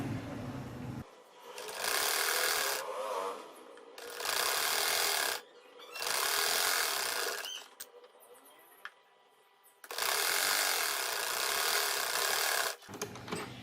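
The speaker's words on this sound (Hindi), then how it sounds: "ये देखें व्यूअर्स, अब मैं इसको स्टिच कर रही हूँ।" A sewing machine stitches a trouser poncha (hem) strip in several close, steady bursts of rapid mechanical whirring, separated by short quiet pauses, with no talking.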